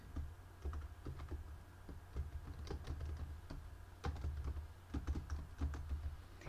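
Someone types a Python program on a computer keyboard, a close, steady patter of key clicks in uneven bursts and short pauses, with no talking.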